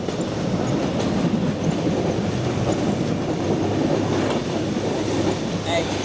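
Steady rumble of a train rolling on rails with a soft clickety-clack rhythm, moderately loud and continuous throughout.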